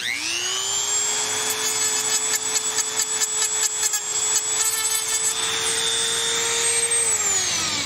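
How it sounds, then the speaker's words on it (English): Continuous high-pitched grinding on the outside of a wingbone turkey call, a steady whirring tool tone held for about seven seconds with slight rubbing variations, close and loud, then winding down at the end. "While I'm grinding on that, I'm going to be shaping the mouthpiece as well."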